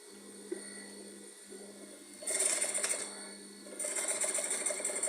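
A sewing machine stitches the lining of an off-shoulder turtleneck dress, a faint steady mechanical whir that speeds up in two stronger bursts, with no talking.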